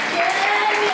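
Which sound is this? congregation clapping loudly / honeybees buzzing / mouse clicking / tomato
congregation clapping loudly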